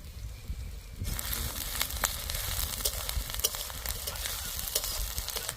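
Browned onion frying with garlic and ginger paste for a potol chingri curry, starting quiet and then breaking into a close, steady sizzle with crackles and stirring scrapes.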